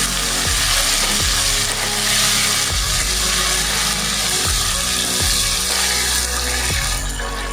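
Tomatoes stirred into fried onions in a pan for ridge gourd chutney, a loud continuous sizzle with a spoon scraping the pan in repeated regular strokes, close and alone.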